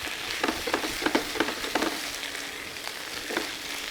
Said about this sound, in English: Add a pinch of your spinach, saute that off.